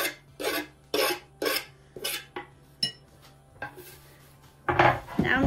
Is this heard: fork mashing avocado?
yes